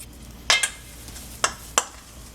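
Vital wheat gluten flour being stirred into a vegan breakfast sausage mixture, with a few distinct scraping strokes against the bowl, close and fairly loud, over a quiet background without speech.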